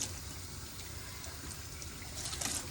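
Water runs steadily from a tap while hair is being washed, a soft continuous splashing and hiss, fairly faint and without speech.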